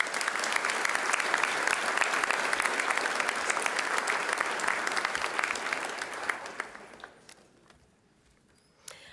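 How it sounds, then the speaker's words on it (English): Loud, dense crowd applause at a school commencement ceremony continues steadily for several seconds, then thins and fades to quiet room tone with a few scattered claps near the end. "Let's give them one more round of applause,"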